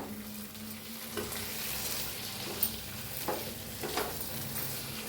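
Fried masala green chillies and fresh coriander being stirred in a pan, with a steady low sizzle and a few soft scrapes of the spoon, close up and without talk.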